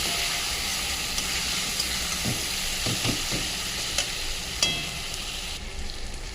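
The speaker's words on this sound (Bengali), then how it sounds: "দেবো জিরে 1 চামচ, দেবো লঙ্কা 1 চামচ আর হলুদ দিয়ে ভালো করে কষবো" Cumin, chili and turmeric sauté in a hot pan, a steady close sizzle broken by a handful of spoon-stirring scrapes and taps, with no one speaking.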